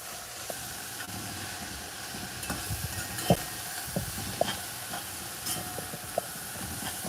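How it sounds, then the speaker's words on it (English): Food sizzles and hisses steadily in a pan on a home stove while cooking a Caribbean meal, with intermittent scraping and clinking as it is stirred, close and continuous without talk. "So we're gonna continue frying this down here."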